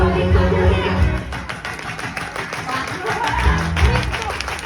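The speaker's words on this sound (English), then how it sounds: "Everybody clap your hands!" An audience claps hands in a steady rhythmic beat, the claps sharp and fairly close, with voices and background noise mixed underneath.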